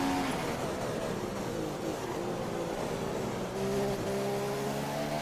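Race cars in an F1 racing video game at Bahrain, engines droning steadily with rising and shifting tones as cars run close together in the slipstream, loud and continuous with no talking.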